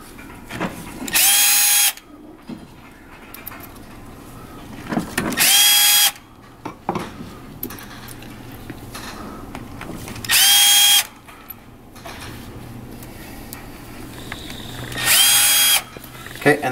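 An electric screwdriver drives motor screws into a VoltBike hub motor during a motor core replacement, in four loud, close bursts of about a second each, spaced several seconds apart, with quiet handling noise between.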